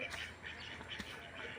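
Ducks quack in a farmyard, a few soft, somewhat distant calls over quiet outdoor background noise.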